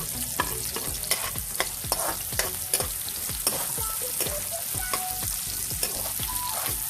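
Onion, garlic and ginger sautéing for pork adobo, a loud close sizzle with a series of scraping stirs and clinks from a utensil against the pan, no voices.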